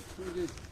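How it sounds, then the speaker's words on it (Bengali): A single soft, hollow call of a blue-throated barbet rises briefly against a quiet outdoor background in Lepchakha, Dooars, with faint voices nearby. "এই পাখিটা ডাকতেছে এর নাম হলো ব্লু থ্রোটেড বারবুট"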